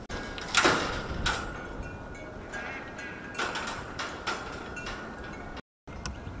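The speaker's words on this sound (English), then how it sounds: "I attached a piece of the hog panel along the side using these bolts here" Bolts being fitted to fasten hog panel rails along the side of a home-built livestock trailer produce metallic clanks and scraping, with a loud rattle early on, then scattered knocks and a brief gap near the end.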